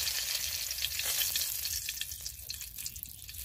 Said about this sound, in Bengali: কড়াইতে আবারও আমি তেল দিয়েছি, দিয়ে দিলাম 2টো তেজপাতা